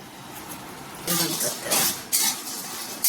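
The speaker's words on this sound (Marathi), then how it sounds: "आता ही मेथी फ्राय करून घ्यायची बघा. मेथी चांगली फ्राय करून घ्यायची." Fenugreek seeds fry in a pan for a Maharashtrian masala, with a soft sizzle under bursts of scraping and stirring as a spoon clinks against the metal three or four times.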